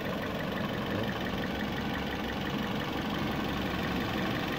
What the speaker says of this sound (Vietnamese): Chắc anh em máy nổ im phát này